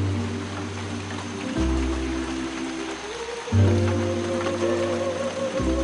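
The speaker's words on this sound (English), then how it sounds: "Today is the 14th consecutive day of rain." Heavy wet-season rain in Panama pours in a steady broadband hiss with a low rumbling hum underneath that shifts in steps, loud and continuous with no voices.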